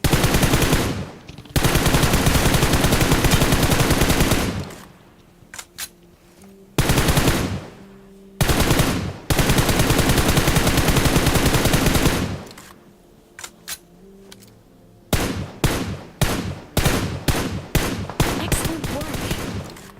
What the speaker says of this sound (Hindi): क्योंकि 2 साइड से फायरिंग होने लग जाती है।